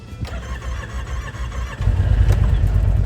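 A Yamaha engine cranking and catching on a cold 17-degree day, then settling into a loud, steady low idle up close.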